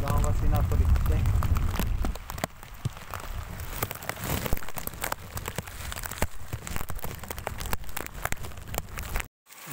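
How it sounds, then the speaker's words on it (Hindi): Heavy rain falls in a village, a dense steady hiss with crackling drops on the surface, close and loud, and a voice talks over it before a brief cut to silence near the end. "बारिश अभी आने लग रही है, जोरों पे है, पानी बहुत है रास्ते के अंदर"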